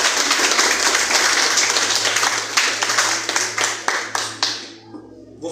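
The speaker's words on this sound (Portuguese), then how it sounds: "Palmas para Jesus." A church congregation claps for Jesus during a Portuguese-language service, dense clapping at first that thins into a few louder separate claps and fades to near silence at the end.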